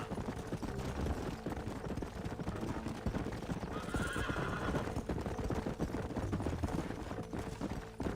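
Horses' hooves clip-clop steadily while a horse neighs partway through, set against a busy mix of Red Dead Redemption game effects.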